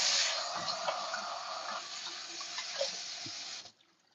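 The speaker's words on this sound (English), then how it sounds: "I'm washing my hands, listen to the water." Tap water runs steadily into a sink during handwashing, a close, continuous broadband rush that holds for about three and a half seconds before cutting off abruptly.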